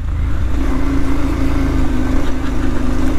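A car engine runs steadily at a low, even hum with a constant drone as the vehicle moves along a muddy dirt road on the way to a waterfall, with no talk over it.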